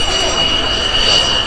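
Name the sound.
toy fighter jet airplane sound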